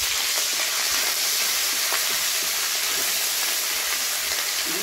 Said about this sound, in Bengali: ভাজা হয়ে গেছে, বেটে রাখা রসুন দিয়ে দিচ্ছি।